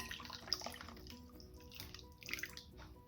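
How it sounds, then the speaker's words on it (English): Thick wet batter ingredients pouring and sloshing into a bowl of dry oatmeal mixture for southern baked oatmeal, a soft continuous liquid splatter with small drips and clinks, close and fairly quiet, with no talking. "now ready to pour our wet ingredients into the dry ingredients"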